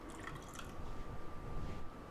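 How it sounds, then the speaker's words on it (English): About an ounce of water poured into a pan of egg breakfast pizza mixture with smoked paprika and red pepper flakes, a brief, quiet trickling splash lasting a couple of seconds. "we're going to add about an ounce of water"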